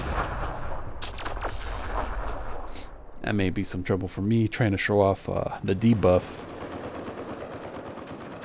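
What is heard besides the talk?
cryo explosions in video game Mass Effect Andromeda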